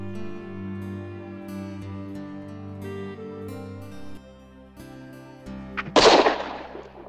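A single sharp gunshot bursts out loud near the end of a narrated ghost story set in a haunted mountain forest, cutting across a sustained low musical drone with scattered chime-like notes.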